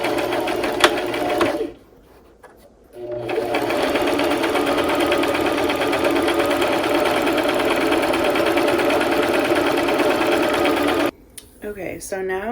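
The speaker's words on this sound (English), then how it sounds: "you'll sew a straight stitch down this side, leaving the top and the bottom open" Sewing machine running a straight stitch down the side of fabric for a pumpkin decoration, a loud steady whirring hum for long stretches, with one brief stop and a second pause near the end.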